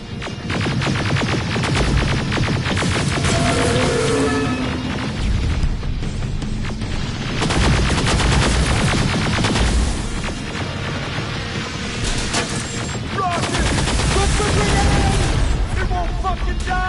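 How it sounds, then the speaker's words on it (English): Intense gunfight in the video game Terminator Resistance, with dense, continuous gunfire and booming impacts throughout, loud and close, with voices talking over the combat. "Quite the intense little gunfight we've wandered into."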